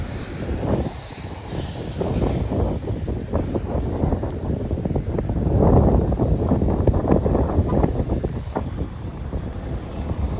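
Wind on a blustery day at Bluegrass Regional Airport in Lexington, Kentucky, loud low rumbling gusts battering the microphone in uneven surges across the whole stretch, with no talking.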